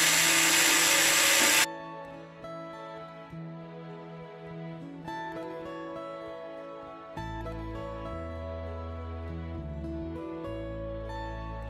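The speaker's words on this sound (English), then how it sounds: "So I'm just gonna use my Dremel. And you hear that." A Dremel rotary tool rubs lightly against denim fabric to fray it, giving a steady high motor whine with a shift in pitch partway through; no speech.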